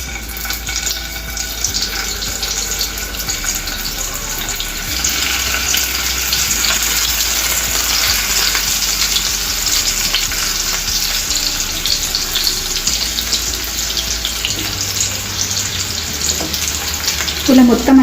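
Stuffed bitter gourds frying in hot oil in a pan, a loud continuous hissing sizzle that holds steady throughout, with a few faint clinks near the end and no talking.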